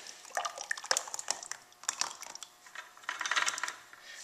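Liquid plaster is poured into a two-piece mold, making intermittent close splashes and drips in uneven bursts.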